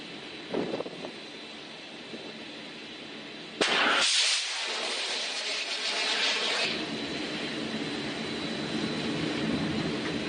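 Military jet aircraft from US CENTCOM forces take off with a sudden loud roar that erupts partway through and holds as a sustained rushing engine noise, after a quieter stretch with faint thumps.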